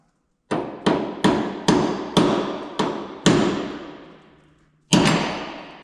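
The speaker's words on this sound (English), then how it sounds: "To get the hook off, we got to drive a roll pin out here, use our roll pin punch." A hammer strikes a roll pin punch to drive a roll pin out of a wrecker's tow hook: eight sharp, ringing metal blows, seven in quick succession, then a pause before a final hit.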